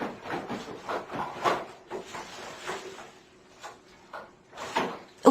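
Kitchen drawer pulled open while someone rummages for candles, a run of soft wooden slides, knocks and rattles at close range with no talk.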